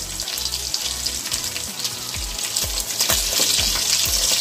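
Fish frying in a pan over a low flame, a steady close sizzle with soft repeated scraping or turning knocks, growing slightly louder toward the end, no talk.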